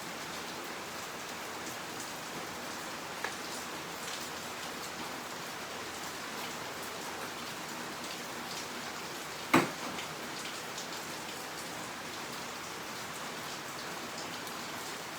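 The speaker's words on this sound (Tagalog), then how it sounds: "Ngayon din, malakas din po yung ulan." Heavy rain falls in a continuous, even hiss of drops on surfaces, steady throughout, with one sharp knock partway through and no voices.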